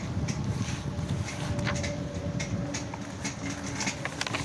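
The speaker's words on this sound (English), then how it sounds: "Very windy today." Strong wind blows outdoors in steady, loud broadband gusts with a low rumbling buffet across the microphone, continuous throughout and with no talking.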